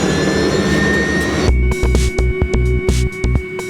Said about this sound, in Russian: Вот это наш вертолет, он уже готов